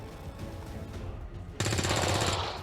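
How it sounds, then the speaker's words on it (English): Automatic gunfire in the turn-based strategy game XCOM 2 opens up abruptly partway through, a loud, steady run of rapid shots that continues to the end over a murmuring game backdrop. "Let's shoot this now."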